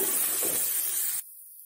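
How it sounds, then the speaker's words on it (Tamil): Chopped onion sizzles steadily in a hot pan for a Tamil brinjal and egg podimas, with a continuous bright hiss that cuts off abruptly near the end, no talking. "பொடியாக கட் பண்ண வெங்காயம் அதையும் நல்லா வதக்கிடலாம்"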